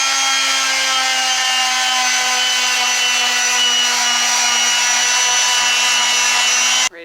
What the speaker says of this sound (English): We got to be really aggressive in sanding from this point back to this point.